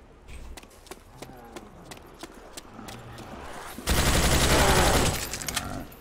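Gunfire in a custom zombie map of a shooter video game: a run of sharp single shots, then a dense, loud burst of rapid fire near the end, with a voice talking over parts of it.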